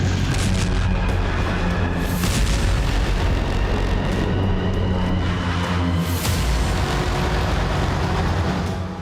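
Heavy explosions from missile attacks in Ukraine, a continuous loud, dense roar of booms and rumbling blasts with a couple of sharper bangs standing out.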